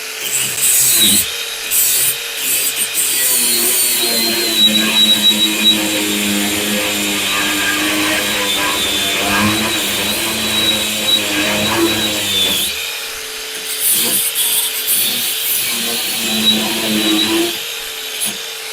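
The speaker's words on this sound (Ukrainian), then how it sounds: "Акумуляторна болгарка це річ." A Grosser GAG 120N cordless brushless angle grinder whines at high pitch while grinding and cutting, a steady harsh rasp close by, easing off briefly before biting in again.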